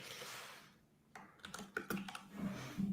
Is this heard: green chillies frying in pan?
no